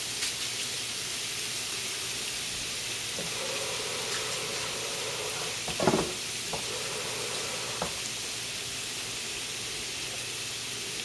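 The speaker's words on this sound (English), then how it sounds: "As soon as you hit it in there, it should start sizzling." Steady, broad sizzling of venison frying in a hot pan, with a couple of brief clinks and scrapes partway through.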